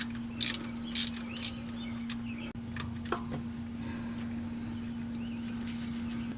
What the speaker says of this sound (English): I like to use a ratcheting wrench on this one because it's a little tighter in here.